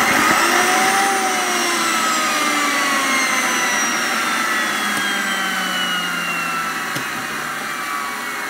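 Electrolux Mondo 5105 vacuum cleaner motor with faulty brushes spins up, a loud whirring whine that glides slowly downward in pitch, with faint crackles of arcing heard over it.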